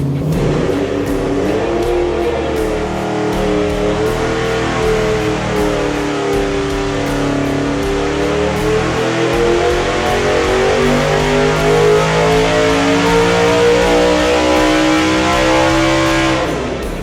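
A high-revving 5.0L LS V8 built for 8,000 RPM roars continuously on a dyno, loud and close, its pitch sweeping steadily upward through a long pull with no talking.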